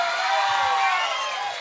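Audience at a live comedy show in Paraguay roaring with dense, steady applause and cheering, close and loud throughout, fading slightly at the end.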